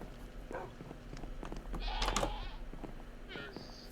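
A goat in the video game Minecraft bleats in short, wavering cries, with one louder call near the middle and another toward the end, over a low background hum.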